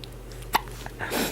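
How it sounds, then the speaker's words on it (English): A child gives a single sharp hiccup, a brief close burst in a quiet room, followed a moment later by soft rustling and breathy noise. "You got the hiccups?"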